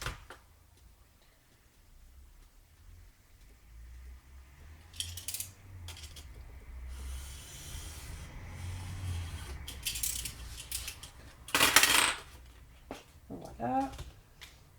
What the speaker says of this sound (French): On va venir couper le surplus de papier.